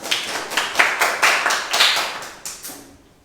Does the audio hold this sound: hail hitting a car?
no